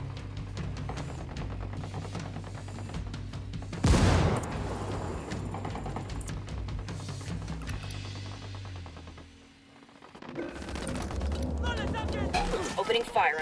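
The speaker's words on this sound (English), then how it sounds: "Opening fire on these fuckers." Gunfire in Ghost Recon Wildlands: dense rapid bursts and rattling automatic fire with a sharp loud blast near the start, mechanical clatter throughout, a brief lull, then sustained firing again, with voices talking over the action.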